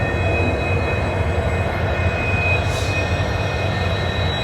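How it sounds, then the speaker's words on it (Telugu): A diesel locomotive stands or moves at Badarpur Junction station, a loud continuous engine drone with a steady low rumble and faint high whine throughout, no speech. "ఇక్కడ చూడండి డీజిల్ లోకోమోటివ్."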